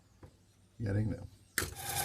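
A wooden yard for a ship model is rubbed with sandpaper in two short, close raspy strokes after a faint scratch.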